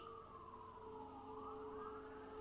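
Distant emergency sirens wailing steadily, with slowly sweeping tones that overlap, faint and continuous with no talking.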